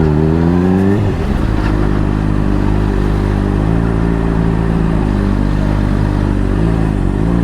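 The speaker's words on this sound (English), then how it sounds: "So this is my Honda CBR 600RR." A Honda CBR 600RR motorcycle ridden through a city, its engine droning loud and close with a steady hum, rising briefly in pitch as it revs early on, with no voices over it.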